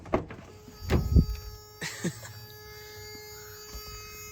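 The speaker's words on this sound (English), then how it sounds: "let's hear that signature buzzer" A 1989 Toyota Pickup SR5's anti-theft buzzer drones continuously at a constant pitch. Several dull clunks and thumps sound near the start, then the buzz carries on alone.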